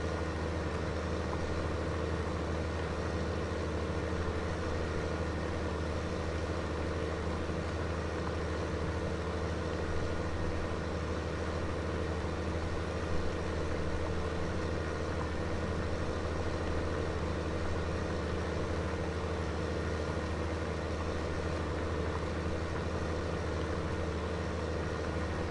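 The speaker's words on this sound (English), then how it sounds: "I'm really liking this tractor so far." A tractor engine idles in a farming video game on PS4, a steady, unbroken low drone that holds at an even level throughout, with no talking over it.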